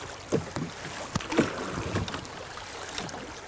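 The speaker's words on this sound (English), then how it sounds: "Ah, you can hear the front of the boat." A homemade DIY canoe's bow pushes through water, giving soft irregular splashes and gurgles with a few sharper knocks, heard close up over light wind noise on a river.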